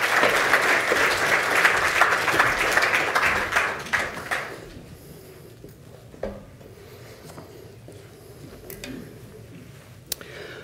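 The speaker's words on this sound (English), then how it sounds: "give him a round of applause" An evening lecture audience applauds to welcome a speaker, a dense burst of clapping lasting about four seconds before fading into quiet room noise with a few isolated taps.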